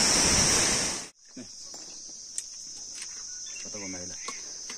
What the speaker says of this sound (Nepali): अहिले हामी आएको ठ्याक्क खोलामा हो। खोलाको ठाउँ यस्तो यी झर्नाहरू